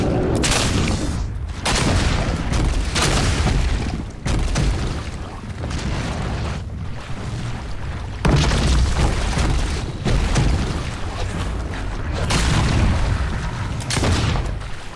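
Gunshots in the Fable II video game, heavy booming bursts that come in a dense run of repeated blasts with rumbling, explosive tails and no pause between them across the whole stretch.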